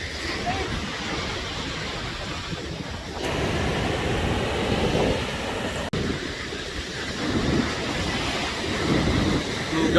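Surf rolls onto a beach in a steady broadband wash, with people talking nearby over the continuous rumble of waves and wind.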